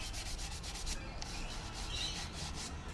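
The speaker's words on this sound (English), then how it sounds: "working away on sanding the cupboard doors" Wooden cupboard doors being sanded by hand, a steady close-up rubbing and scraping with repeated strokes that continue without pause and without talk.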